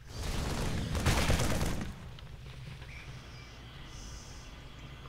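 Rapid gunfire from a base under attack in StarCraft 2's Terran campaign, a loud dense burst of shots for about two seconds, then fading to quieter battle ambience with faint distant pops.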